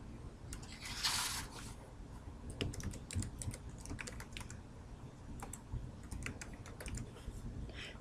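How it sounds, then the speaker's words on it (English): Steady, quick typing on a computer keyboard as a login name and password are entered, close and continuous clicking with a brief rustle near the start. "Enter your login name and password in the spaces provided."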